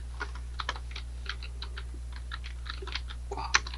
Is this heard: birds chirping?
no